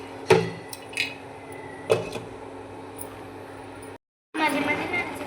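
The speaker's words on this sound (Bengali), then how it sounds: "এবার আমি এটা ঢাকা দিয়ে দেব।" A lid is set down on a pot of egg khichdi, giving a few sharp, close clanks over a steady background hum, followed by a brief silence.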